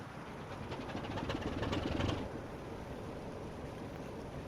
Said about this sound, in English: what we'll do is we'll start the locomotive up. So we can do this by pressing the Z key